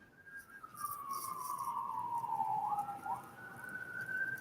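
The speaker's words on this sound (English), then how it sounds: "Where's the police cars? Is that me or you?" A wailing siren rises and falls in pitch, steady and fairly loud, with a second siren tone overlapping near the end and no talking.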